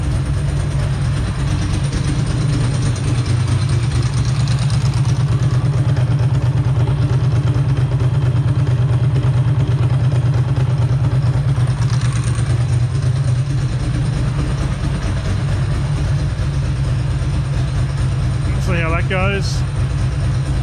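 A Ducati 2V motorcycle engine with open mufflers and an aftermarket EEPROM idles steadily in a deep, continuous low rumble throughout, with someone talking over it and a brief squeaky sound near the end.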